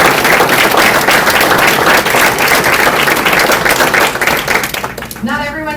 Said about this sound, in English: I think we all should probably just give Ben a huge round of applause.